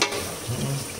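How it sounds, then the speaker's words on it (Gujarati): Spices sizzle in hot oil as a tempering for a home-cooked potato, onion and garlic dish on a farm, a brief close hissing crackle with a little stirring, no voices. "એનો વઘાર આપ્યો"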